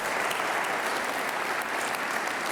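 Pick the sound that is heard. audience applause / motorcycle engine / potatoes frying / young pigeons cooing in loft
audience applause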